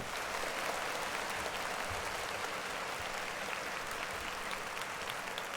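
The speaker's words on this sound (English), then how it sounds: "Clap it up for that man." An audience at a Monday service claps for a man, a continuous, even wash of applause heard faintly from a distance for several seconds.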